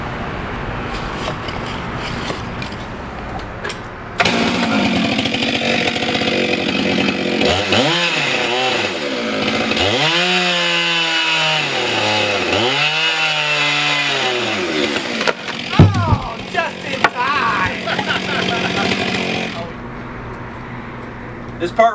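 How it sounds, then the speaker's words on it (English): A chainsaw bites into a large white oak log, its engine rising and falling through several cuts over a steady idle drone, loud and close, with brief clanks near the end. "And maybe a chainsaw."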